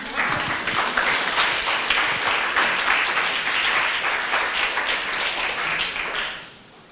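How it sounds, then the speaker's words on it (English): Audience applause after a UX analytics and coding presentation at a summit, a dense steady clapping that holds evenly for about six seconds before fading out quickly at the end. "You can clap."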